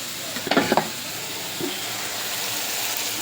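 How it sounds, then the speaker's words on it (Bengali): Chili masala paste with ginger and garlic paste sautéing in a pan for a sea-fish curry makes a constant hiss, opened by a short burst of spoon scraping and clatter, then a softer knock. "এইদিকে আমি মরিচ মশলা কষিয়ে নিচ্ছি"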